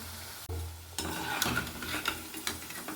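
Onion pakoda frying in hot oil gives a loud, steady sizzle with bubbling crackles, close up and continuous after a brief clatter at the start.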